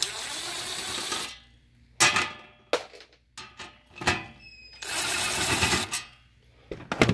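Screws being unscrewed from a Powerdrive 3 charger, close-up sharp clicks, scrapes and small rattles in uneven bursts, separated by quiet gaps and longer stretches of broadband rustling handling noise.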